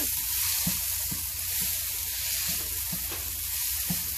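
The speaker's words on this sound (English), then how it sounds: "Mix that together." Cauliflower rice sizzles steadily in a pan over medium heat, with soft stirring scrapes repeating about twice a second under a continuous close frying hiss.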